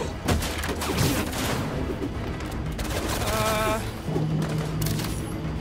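Gunfire from enemy troops in Marvel's Spider-Man 2, a dense, continuous volley of shots mixed with impacts and game effects, steady and loud throughout, with a brief shouted voice over the din.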